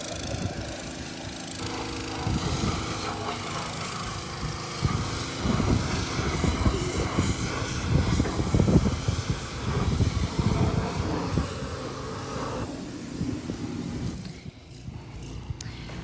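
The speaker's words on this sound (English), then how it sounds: "So this tractor is a German-built tractor known as a Fendt." A German-built Fendt tractor passes close by on a farm, its engine a loud, steady broadband rumble that swells through the middle and drops away near the end, with no talk over it.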